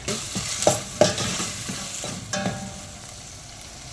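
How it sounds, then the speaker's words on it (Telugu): Green chili paste frying in a pan, a soft crackling sizzle broken by a few sharp stirring scrapes near the start, then settling into a quieter steady fry, with no voices. "చక్కగా వేగుతుంది పచ్చిమిర్చి పేస్ట్ కూడా"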